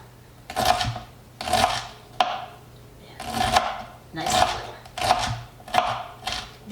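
A knife on a board finely chopping parsley and pickled onion for egg salad sandwiches, a run of about seven close, crisp chops in a loose rhythm with short pauses between.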